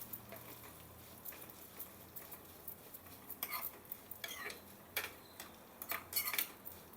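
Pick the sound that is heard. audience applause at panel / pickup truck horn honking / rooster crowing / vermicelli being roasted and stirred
vermicelli being roasted and stirred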